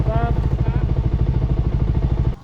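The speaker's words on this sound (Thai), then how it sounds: "ตอนนี้เร่งเครื่องเต็มตี้ครับขึ้นดอย" A motorcycle engine at full throttle climbs a mountain road, thumping in a fast, steady rhythm close by, with a brief voice at the start, before the sound drops away abruptly near the end.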